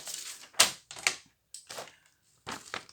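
Scissors cut through folded paper while a three-compartment craft pouch is made, giving several short, crisp snips in close succession with brief pauses, close and fairly quiet.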